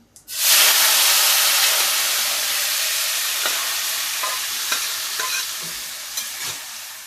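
A loud burst of sizzling as boiled cluster beans with their cooking water hit hot tempering oil, then a steady hiss that slowly fades, with a few soft clicks of stirring.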